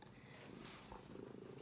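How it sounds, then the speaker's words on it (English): A house cat purrs close by, a soft continuous rumble running through the whole stretch with a brief rustle in the middle and no talking. "Sorry, cats again."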